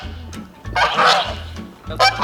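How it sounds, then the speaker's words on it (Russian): Geese honk loudly and close by in harsh, overlapping calls, with two bursts separated by a short lull. "Гуси не дают снимать."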